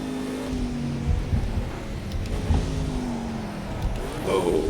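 A racing car engine in Project Cars 2 drones and revs with tires squealing in long sliding tones as the car runs wide, game-style, with a loud steady roar throughout.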